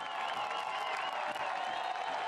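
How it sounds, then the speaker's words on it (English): A soccer stadium crowd at a USL match between Phoenix Rising FC and Colorado Springs Switchbacks FC, a dense, steady roar of cheering and clapping filling the whole moment. "The crowd's going crazy"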